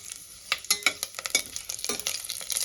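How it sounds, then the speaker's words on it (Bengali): Dried red chillies and whole spices crackle and spit as a tempering fries in hot oil for tomato rice, with quick scraping stirs and small sharp pops; close and alone, no talk. "ফোড়নটা আমি একটু ভেজে নেব।"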